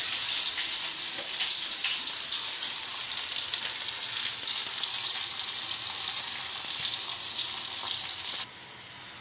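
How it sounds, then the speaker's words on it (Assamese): Garlic sizzles and fries steadily in hot oil in a wok, a loud continuous crackle with faint stirring scrapes, ending abruptly near the close. "এয়া মই কেৰাহীত তেল গৰম হ'ব দিছোঁ, আৰু এইখিনি নহৰু মই গোটেইখিনি ইয়াত দি দিম"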